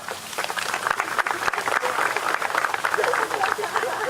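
Steady applause from a crowd at an NFL community tree-planting event, broad and continuous, with some voices mixed in throughout.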